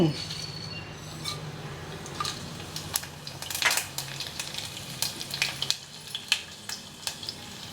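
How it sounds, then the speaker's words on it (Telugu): Mustard seeds, cumin, dried red chilies, garlic and curry leaves hit hot oil for tempering. Sharp popping crackles burst irregularly over a continuous close sizzle, with some faint stirring. "ఆవాలు జీలకర్ర ఎండుమిర్చి వెల్లుల్లిపై కరివేపాకు కొత్తిమీర ఇంగవ నూనె కాగిందండి"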